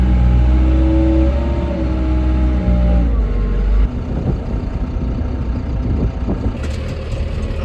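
A farm vehicle drives through a silage pit yard, its engine loud and close with a steady low rumble, then it shifts to a rougher, rattling drive with clunks.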